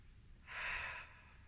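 A single deep breath drawn during a seated yoga twist and hip stretch, one soft airy swell lasting about half a second, faint and close, with quiet stillness on either side.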